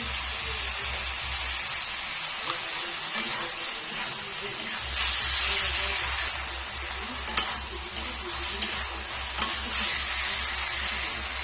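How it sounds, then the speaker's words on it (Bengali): Chicken mince frying with chopped tomato and potatoes in a pan for ghugni, a steady close sizzle broken by repeated scraping and stirring strokes throughout, with no talking. "ভেজে রাখা আলুগুলো দিয়ে দেবো দিয়ে চিকেনটাকে ভালোভাবে কষিয়ে নেব"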